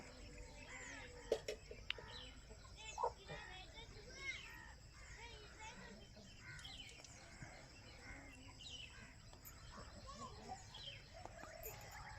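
A short-nosed, long-tailed rooster and five large hens kept for sale cluck and chirp faintly amid steady background bustle, with scattered bird calls and a voice talking nearby.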